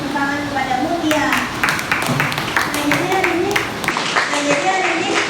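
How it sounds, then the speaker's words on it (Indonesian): A classroom in Indonesia breaks into scattered clapping, with irregular sharp claps over a couple of seconds under ongoing voices and room chatter. "beri tepuk tangan kepada Mutia."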